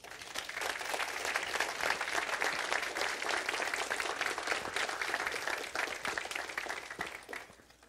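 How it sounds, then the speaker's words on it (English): Warm applause from a church congregation at a baptism service in Chicago, a thick continuous patter of many hands clapping, swelling early and fading out near the end. "Give them a round of applause."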